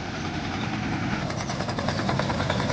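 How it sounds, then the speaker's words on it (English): Tesmec 1475 trencher, a huge 1,200-horsepower digging machine, runs with a steady, loud, dense engine drone and rumble that holds evenly throughout, with no speech. "That's the Tesmec 1475 Trencher."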